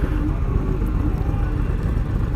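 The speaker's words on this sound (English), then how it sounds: "Yeah, man, that engine sounds good." Indian Chief motorcycle engine running steadily close by, a continuous low rumble with a faint whir above it and no voices over it.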